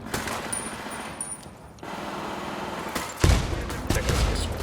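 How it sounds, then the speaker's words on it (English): Automatic gunfire in the Ghost Recon Wildlands video game, dense rattling bursts from mid-distance, a brief lull, then heavier, louder volleys near the end. "Sounds like a lot of gunfire."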